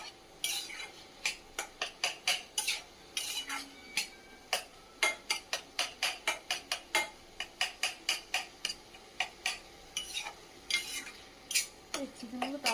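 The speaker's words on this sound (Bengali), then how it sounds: "প্রথমেই তেলের মধ্যে সমস্ত উপকরণগুলো দিয়ে আর স্বাদমতো নুন, 3 রকমের সস দিয়ে ভালো করে মোমোর পুরটা রেডি করে নিচ্ছে।" Momo filling of chicken, carrot and coriander is stirred in hot oil, a close series of rhythmic scraping taps of a spoon against the pan over a low sizzle, steady strokes without any talking.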